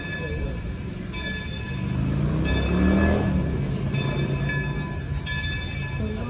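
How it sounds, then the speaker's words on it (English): A Delaware and Hudson passenger train from Montreal rolls into Scranton station, its wheels rumbling and screeching faintly at a moderate distance, with a steady low clatter under a regular high ticking tone. "Delaware and Hudson train from Montreal, now arriving at Scranton, PA"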